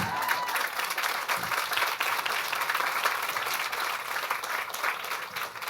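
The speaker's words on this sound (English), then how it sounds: "Shorter claps." Audience at a vegan festival talk applauds, a dense, even wash of many hands clapping at once, sustained and fairly loud for several seconds with no pauses.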